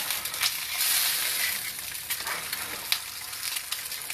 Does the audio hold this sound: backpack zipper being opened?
no